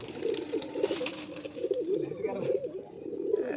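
Pigeons in a tournament loft keep up a steady murmur of low cooing throughout, close and continuous, with a voice talking intermittently over the birds.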